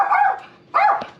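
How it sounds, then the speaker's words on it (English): A dog barks twice indoors, two short sharp yips about three-quarters of a second apart at moderate loudness, with no other sound. "the dog wants to yell"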